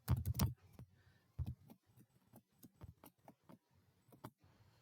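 Typing JavaScript code on a computer keyboard, a quick cluster of loud key presses followed by lighter irregular clicks, close and alone.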